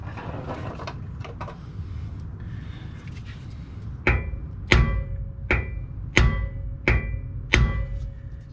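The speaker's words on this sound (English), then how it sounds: "give it a couple whacks, let the bearings settle" A hammer strikes a vehicle's pinion bearing assembly to seat the bearings, six sharp, loud metallic whacks about two-thirds of a second apart, after a stretch of quieter shop noise and handling.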